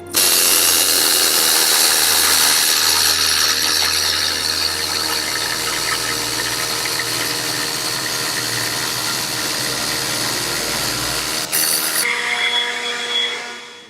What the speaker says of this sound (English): we've started chipping. This is coming to the first phase of our needle gunning